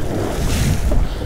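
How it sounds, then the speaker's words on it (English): A big wave breaks over the bow of an offshore fishing boat off Sydney, a close, broad rushing splash of water mixed with wind and hull noise, loud and steady for about a second. "Water over the bow."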